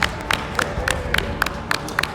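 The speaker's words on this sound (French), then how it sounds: "On applaudit bien fort, les gars." An audience claps for the winner of a fight, sharp claps landing in a steady, evenly spaced rhythm that sounds like a small group applauding at close range.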